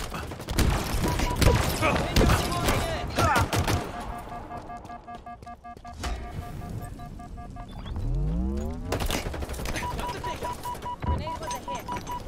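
Halo Infinite Oddball match on the Streets map: rapid gunfire bursts and a grenade blast with a whooshing sweep, loud and busy, with in-game voices and a player talking throughout.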